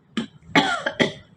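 Three dry coughs in quick succession from a woman alone in a room, with a throat feeling sore, close and fairly loud with short pauses between.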